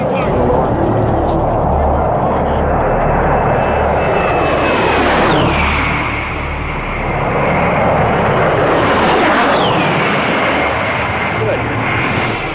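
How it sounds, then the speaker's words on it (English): A-10 Warthog jets pass low overhead one after another, each a rising and falling high-pitched engine whine over a heavy roar, with people talking underneath. "Warthogs were a very interesting kind of plane because it's kind of eerie because they get very low and they're just got this whine to it"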